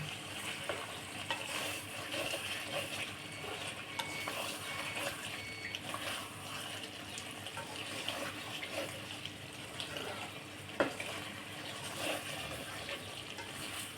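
Goat meat with liver slowly sautéing in a pan, a low continuous sizzle with soft stirring scrapes and a few light clinks, fairly quiet and steady with no voices.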